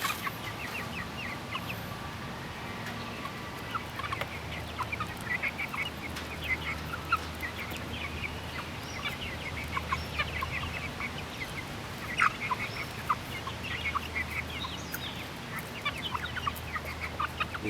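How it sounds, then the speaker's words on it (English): Young chickens, born in March, cluck and chirp on their first day in a chicken coop, a steady chorus of soft overlapping calls with occasional sharper peeps, fairly near and continuous. "Day one in the chicken coop."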